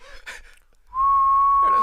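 A person whistles a single sustained, steady high note held for about a second, loud and close, following a brief burst of talking.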